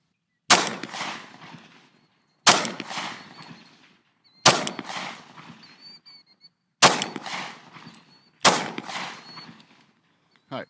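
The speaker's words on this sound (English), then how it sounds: "I'm going to put 5 rounds on his cranium" Five loud, sharp handgun shots from a police trade-in pistol, fired at steady intervals about two seconds apart, each crack followed by a short echoing decay outdoors.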